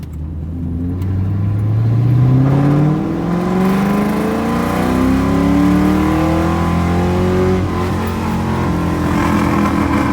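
A high-mileage Ford Mustang engine pulls hard while driving, its pitch climbing through a gear, easing off, then rising again in a loud, close, sustained roar with no voices.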